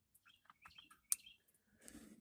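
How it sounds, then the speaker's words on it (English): Small birds living in a garage give faint, scattered chirps and tweets, with a sharp click in the middle and a brief rustling burst near the end, heard alone without talk. "Sorry if you hear a lot of birds."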